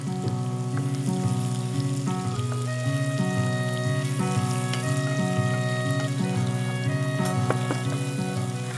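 Chopped onions with salt fry in a pan, giving a steady, close crackling sizzle under continuous background music, with no talk.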